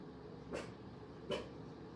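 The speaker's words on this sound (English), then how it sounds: "somebody must be walking by and my dog is protecting me" Two short, faint yaps from a small Chihuahua barking at someone passing by, spaced under a second apart and heard at a distance over low room noise.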